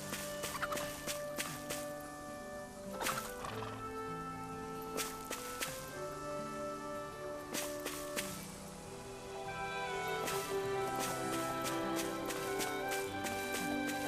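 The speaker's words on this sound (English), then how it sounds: "Nah, it must just be the chickens." Chickens cluck and gobble steadily over background music and scattered sharp clicks in the video game Tales of Arise, moderately loud throughout.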